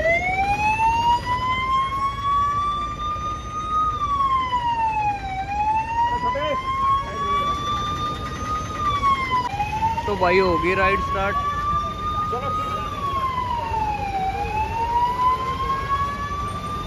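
An ambulance siren wails, rising and falling repeatedly over several cycles, loud and close, escorting a group cycle ride, with someone talking over it and traffic noise underneath.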